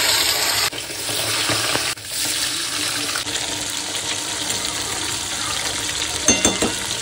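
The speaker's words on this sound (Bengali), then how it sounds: "আগে বাটা মাছগুলো ভেজে তুলে নিই।" Bata fish fry in hot oil with a continuous loud hissing sizzle, interrupted by sharp shifts and brief spatters as pieces are turned or moved in the pan.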